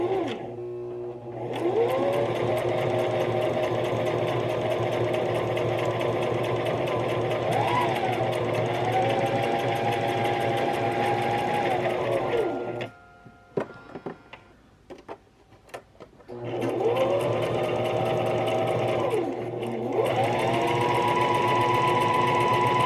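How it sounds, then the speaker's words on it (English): A sewing machine runs steadily, stitching along a sweater seam, a close continuous whirring hum that pauses briefly partway through before starting up again. "I'm actually going to be sewing right along here to just give me that little teeny bit of extra space"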